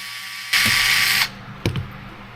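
A power screwdriver whirs steadily for under a second while backing screws out of a Team Associated DC10 RC drift car bulkhead, then a short clatter follows, close and alone.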